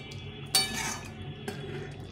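A lid clinks down onto a cooking pot of cauliflower and chhana curry: one sharp metallic clatter and a softer second tap a second later, close and fairly quiet over a low kitchen hum.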